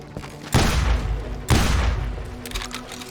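Two heavy, booming shotgun blasts from Deputy Bob's shotgun in the Western shooter Call of Juarez: Gunslinger, about a second apart, each trailing off into a rumbling decay, followed by faint clatter.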